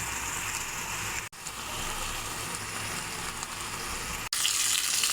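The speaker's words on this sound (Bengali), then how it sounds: "এখন অল্প জালে পাতুরিটা রান্না করে নেব।" Carp fish paturi frying over low heat in hot mustard oil, a steady close sizzle with a fine crackling hiss that runs on without a break apart from two brief cuts.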